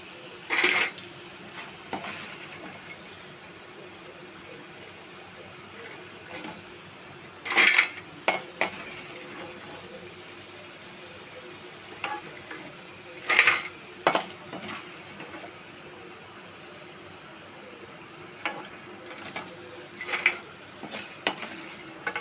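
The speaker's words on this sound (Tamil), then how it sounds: "இதை எடுத்து தட்டில் மாற்றிப்போம். நல்லா சவுண்டு நல்லா கேட்குது பாருங்கள்" Crispy potato masala fry scooped from a pan onto a plate, with sharp metallic clinks and scrapes of a spoon against the vessel recurring every few seconds over a faint crackling background, no voices.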